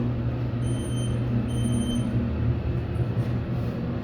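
A Unitec hydraulic elevator at the CCB Building in Garden City, NY runs with a steady low motor hum and faint high whine, a constant drone with no talk.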